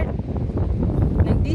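Strong wind buffets the microphone at the Maspalomas dunes on Gran Canaria, a loud, continuous low rumble over the whole moment, with a person speaking briefly under it.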